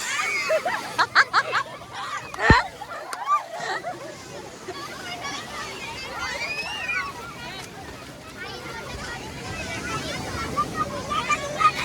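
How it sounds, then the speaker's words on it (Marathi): Sea waves surge onto the beach at Ganpatipule in a continuous wash of surf with gusts of wind across the microphone, while people shout and talk nearby over the water. "लाट जास्त येत, चला माग."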